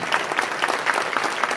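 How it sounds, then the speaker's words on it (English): An audience at a town hall meeting claps in a brief, steady burst of applause, many hands clapping together at close range without pause. "Let's give your representative a round of applause."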